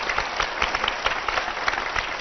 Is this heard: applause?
yes